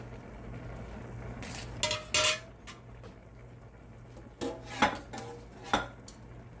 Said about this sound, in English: Okay, so dropping those onions in there.